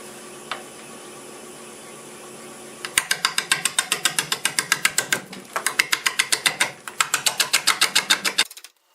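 A gouge cuts a black locust burl bowl on a wood lathe with close, rapid, rhythmic ticking and clattering as the tool meets the uneven burl surface, in several bursts after a quiet motor hum.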